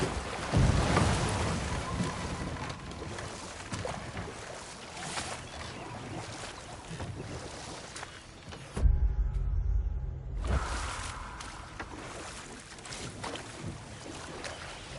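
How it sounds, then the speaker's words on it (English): Steady broadband rush of a waterfall in a fantasy video game, loud and continuous across the scene, briefly broken by a short pause before the roar returns. "Waterfalls. We're close."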